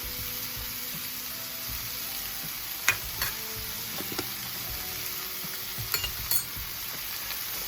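Curry powder being stirred into a sizzling pan with tilapia, a steady low frying hiss with a few scattered clinks and scrapes of the utensil, close and without voices.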